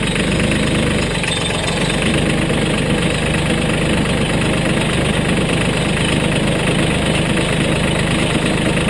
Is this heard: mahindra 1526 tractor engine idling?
yes